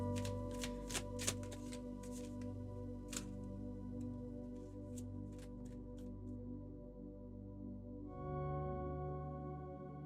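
Tarot cards are shuffled by hand in quick, crisp riffles and flicks through the first seven seconds, then stop, leaving only a steady low background tone.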